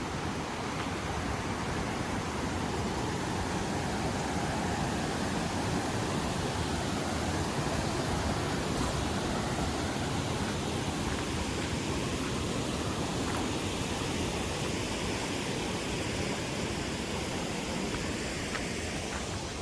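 The Mangeli waterfall roars in the rain as a steady, loud, unbroken rush of falling water that fills the whole stretch with no voices.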